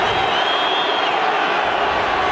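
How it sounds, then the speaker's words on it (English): Rugby crowd at Eden Park, Auckland, roaring behind the home team during the New Zealand vs France final, a dense and steady wall of cheering that holds loud and unbroken throughout. "this crowd is really rising behind the home team"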